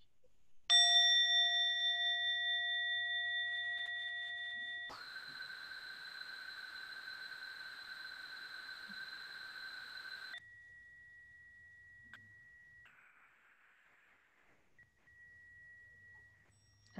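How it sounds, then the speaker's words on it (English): A small meditation bell rings out with a clear sustained tone, struck again about five seconds later for a louder, brighter ring that hangs for several seconds, then fades into quiet with faint residual tones. "we'll just have this next little bell to bow to each other"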